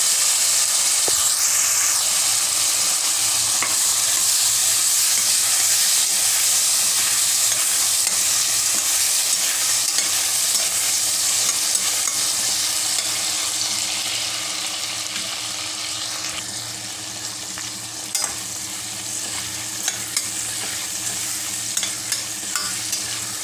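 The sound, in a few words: tomatoes sautéing in a frying pan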